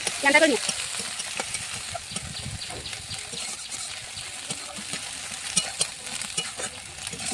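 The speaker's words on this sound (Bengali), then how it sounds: "এভাবে মশলাগুলোকে ভালো করে কষে নেবো" Spices with salt and turmeric fry in hot oil for a pangas, tengra fish and brinjal curry, giving a steady sizzle with scraping stir strokes, a sharper clatter near the start and a few brief clinks later.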